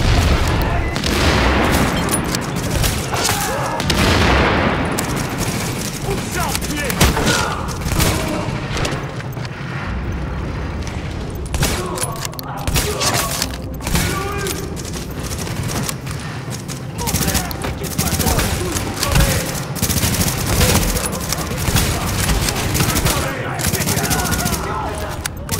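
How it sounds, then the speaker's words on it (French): Dense gunfire in the Tom Clancy's The Division video game, with sustained automatic bursts, sharp shots and occasional booms filling the whole stretch, loud and close, with voices speaking intermittently among the shooting. "L'escorte essuie des tirs en provenance"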